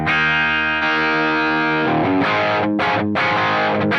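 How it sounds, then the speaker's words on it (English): Electric guitar played through a Quad Cortex with overdrive pedal captures gives a crunchy, distorted tone, with a long ringing chord followed by several shorter strummed chords that cut off and restart, loud and alone. "to a crunch, adding in overdrive pedals."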